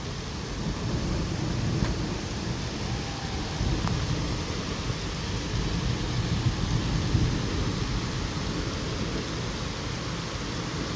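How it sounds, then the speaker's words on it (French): Heavy rain pours down steadily during a violent thunderstorm in Bordeaux, a dense, continuous hiss with a low rumbling undertone, unbroken for the whole stretch. "il pleut juste très très fort"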